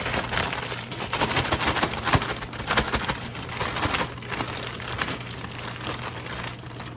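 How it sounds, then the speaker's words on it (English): Mustard greens are dumped from a plastic bag into a cooking pot, a loud close crinkling and rustling that surges in bursts over about seven seconds. "we're going to take this bag and just dump them right over into this pot"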